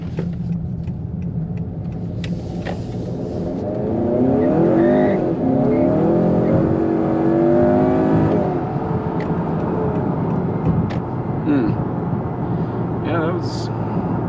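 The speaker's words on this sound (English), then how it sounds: "Had a decent amount of wheel spin." A 2018-or-later Honda Accord with a 1.5 or 2.0 engine accelerates hard with wheel spin: a rising engine roar with tire squeal that swells mid-clip and then eases back.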